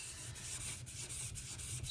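A Ganzo knife's main bevel drawn across a whetstone during convex resharpening, a steady close scraping rub with faint repeated strokes, no voices.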